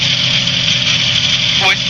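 Small aircraft engine running with a steady droning hum and vibration, loud and close as if heard from the cabin, a brief higher sweep near the end; no clear stutter stands out.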